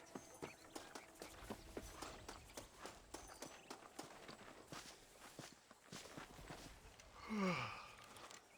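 Horse hooves clop along at a walking pace in the Western video game Red Dead Redemption, soft, even beats repeating through the scene, with a brief swell of another sound near the end.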